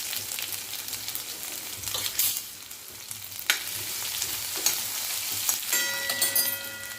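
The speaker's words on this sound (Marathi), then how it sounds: "तेल गरम झालेलं आहे एक चमचा जिरे टाकून घेऊया थोडासा गॅस कमी करून घ्यायचा अद्रक लसूण कुटलेला ते टाकून घ्यायचं" Cumin seeds and crushed ginger-garlic sizzle steadily in hot oil over lowered heat. Occasional sharp crackles and stirring scrapes come through, with a faint steady tone near the end.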